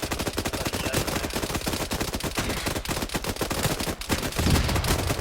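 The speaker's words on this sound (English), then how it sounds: "That shotgun is overpowered." Rapid, dense gunfire in the Arma 3 video game, a continuous loud barrage of overlapping shots with a shotgun among the weapons, lasting the whole stretch without speech.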